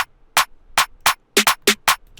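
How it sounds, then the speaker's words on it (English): A Ricky Remedy clap sample fires six times alone, each one a sharp, bright burst spaced in an even but slightly uneven beat pattern, with faint low residue between hits. "We got just a Ricky Remedy clap."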